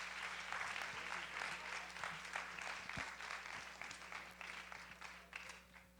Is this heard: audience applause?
yes